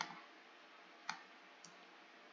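Mouse clicks in a spreadsheet: three sharp, isolated clicks spaced about half a second to a second apart, close and fairly quiet over a steady low background hiss, with no talking.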